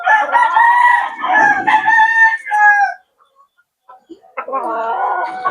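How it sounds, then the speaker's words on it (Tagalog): Fighting cocks in their cages crow up close on a small farm, with two loud, drawn-out calls split by a brief quiet gap and a few faint clucks. "mga fighting cock natin nasa kulungan, hindi nakacord"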